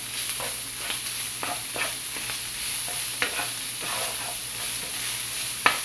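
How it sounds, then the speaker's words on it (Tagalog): A spoon scrapes and stirs béchamel sauce in a pan over a soft, continuous sizzle, making scattered light knocks and clinks, with one sharper tap near the end and no talking. "At haluin."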